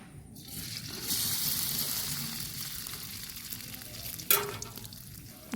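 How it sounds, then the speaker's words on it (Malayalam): Chilli-coated clams hit hot oil in a pan and set off a loud, steady sizzle that rises suddenly and holds, broken near the end by a sharp clatter. No one speaks. "അതിലേക്ക് നമ്മൾ ഈ മുളക് തേച്ച് വെച്ച കക്കൻ ഇട്ട് കൊടുക്കുക"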